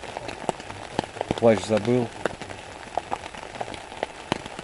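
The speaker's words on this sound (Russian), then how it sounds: "пошел дождь сильный" Heavy autumn rain falls at a riverside during feeder fishing for bream, a steady dense patter with sharp drops hitting close by, while someone speaks briefly.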